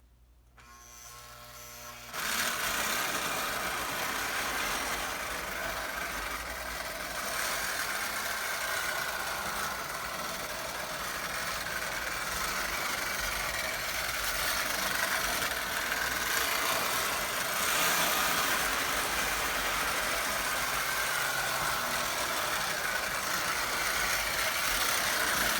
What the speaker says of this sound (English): I swapped in the number 8040 locomotive, which belongs to the 1971 set, and I'm going to pull around the cars for the 1140.